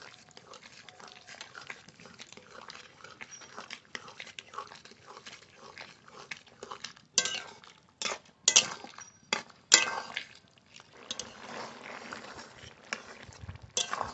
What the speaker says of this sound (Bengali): এবার খুন্তিতে এইভাবে একটু নেড়ে নেড়ে ভেঙে ভেঙে দেবো।